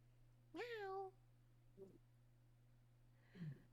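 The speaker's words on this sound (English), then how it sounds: "He's basically like growling, like he does like this thing in his throat" A pet cat named Tiki gives one clear, drawn-out meow nearby, followed by two short, soft throaty growling grunts against a quiet indoor background with a low steady hum.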